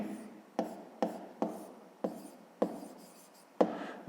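Pen writing out a fifth-grade math solution on paper, a series of about eight short scratchy strokes, each starting with a sharp onset and trailing off, close and fairly quiet with no talking.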